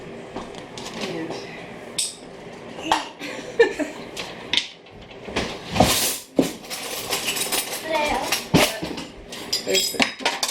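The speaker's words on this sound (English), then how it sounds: "She's loading up the pans for me." Metal bread pans clank and clink repeatedly in irregular bursts as they are loaded, close by, while people talk in the background.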